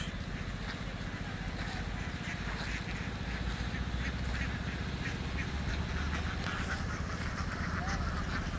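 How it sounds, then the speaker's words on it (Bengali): A dense crowd of ducks quacks continuously on a large farm holding about ten thousand birds, a steady overlapping din with no pauses and no clear single calls. "অনেকগুলো হাঁস"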